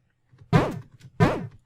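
Two short synth notes, each a bright plucky stab with a sharp attack and quick decay, separated by a brief gap, played alone.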